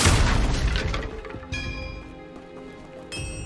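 A fire spell is cast in the Hogwarts Legacy video game with a loud burst that fades, then sharp magical tonal shimmers ring out twice in the middle and near the end.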